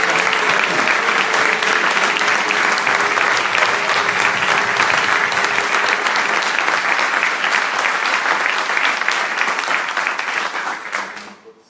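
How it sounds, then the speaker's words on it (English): A crowd applauds loudly and steadily for about ten seconds at a makeathon presentation, the clapping then fading out quickly. "Maybe give them a big applause"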